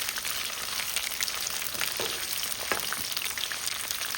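Food frying in oil gives a steady, dense sizzle with fine crackling pops throughout, fairly close and without voices.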